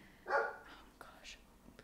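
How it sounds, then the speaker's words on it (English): A household dog barks at the front door, giving one loud bark-like burst with a couple of fainter yips after it, heard indoors behind a quiet room. "our dog's being very rude at the door."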